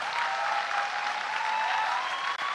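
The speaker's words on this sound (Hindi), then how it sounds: "सबके लिए ताली तो बजा दीजिए" Sustained audience applause filling a convocation ceremony hall, a dense, steady wash of many hands clapping at once, loud and continuous throughout with no voices standing out.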